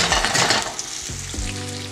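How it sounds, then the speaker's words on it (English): Sliced red onion sizzling steadily in a few tablespoons of hot ghee, a loud close crackle and hiss with brief stirring scrapes, no talk. "Red onion goes into about 3 or 4 tablespoons of ghee,"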